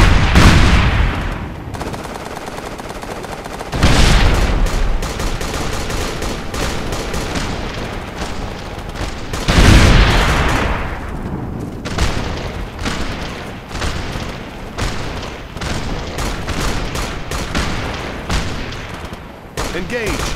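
Gunfire in the video game Operation Flashpoint: Dragon Rising, with rapid bursts of suppressive fire and several heavier booming shots, loud and continuous over about twenty seconds. Radio voices are heard at times.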